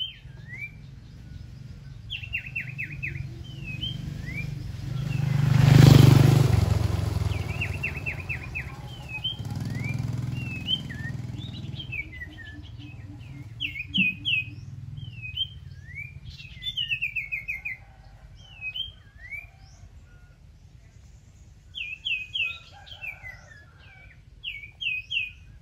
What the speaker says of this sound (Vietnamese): Trời ơi, chim cái giọng.